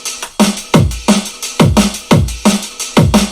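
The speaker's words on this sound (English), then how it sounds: "we'll spend a while balancing them so the full drum sounds like this." Layered kick and snare hits punch over a drum break in a tight, loud, repeating pattern, with deep kick thumps alternating with crisp snare cracks at a steady groove.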